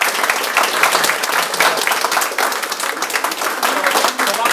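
A small group of people at a fire station's 119 safety center claps steadily and fairly loudly, dense continuous applause throughout.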